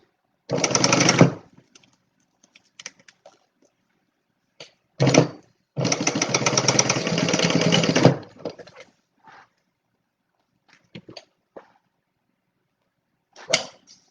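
A sewing machine bastes the zipper tab of a small wallet, running in short bursts: a brief stitch run, a quick tap, then a longer steady whirring run of a couple of seconds, with quiet handling clicks between and a final short burst.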